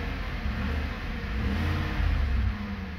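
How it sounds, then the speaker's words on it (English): A car engine idles with a steady rumble, then revs up slightly a couple of times; no talking. "Let me do like a couple of revs just so I can see how"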